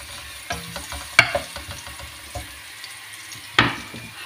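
Garlic frying in a pan, a low steady sizzle under a few sharp clinks and scrapes of a spoon stirring, close by with no talk.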